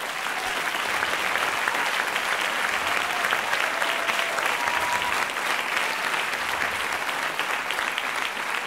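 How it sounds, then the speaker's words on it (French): Steady, even applause from a conference audience at La Journée de L'Audace 2016, a dense wash of clapping heard at moderate distance, continuous for several seconds without pauses. "Applaudissements pour Biba Pedron, s'il vous plaît."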